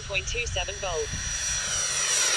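A Freewing F-15 90mm electric ducted-fan RC jet roars at full throttle overhead as a steady, rising whine, while an automated voice reads out battery voltage at the start.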